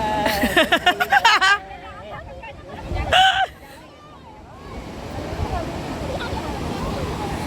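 Sea waves wash onto Tarkarli beach near Malvan on the Konkan coast, a soft broadband surf that grows and hangs in the background after voices at the start.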